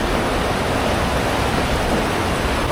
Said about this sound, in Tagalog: Ang laki ng ilog na to.